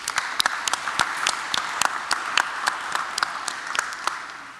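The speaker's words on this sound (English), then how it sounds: "So let's give Corobrik a big round of applause." Audience applause at a student architecture awards ceremony, a steady wash of many hands clapping with a few sharp, close claps standing out, sustained throughout.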